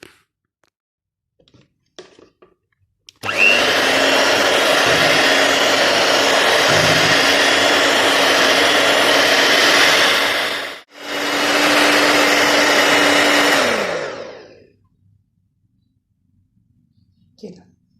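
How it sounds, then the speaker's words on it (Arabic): An electric mixer beats sponge cake batter, a loud steady whir running for several seconds, briefly stopping, then resuming before winding down, with no talk over it. "بس نهبط الدقيق الاول وبعدين نشغل المضرب"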